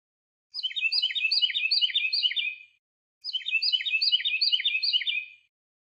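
Two identical bursts of rapid, high-pitched bird chirps, each about two seconds long, separated by a brief silence.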